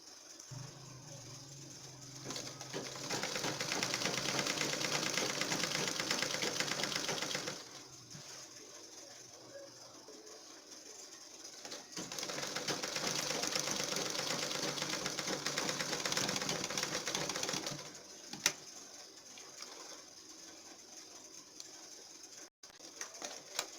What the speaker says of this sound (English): Let me go ahead and sew here straight.